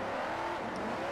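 Two Camaro drift cars from Forza Motorsport 4 roar through a Formula Drift run, a steady loud engine drone holding throughout with no pause.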